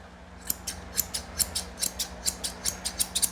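Scissors snip rapidly through a Yorkie's fur during grooming, giving a steady run of about fifteen close, crisp metallic cuts over faint background hum.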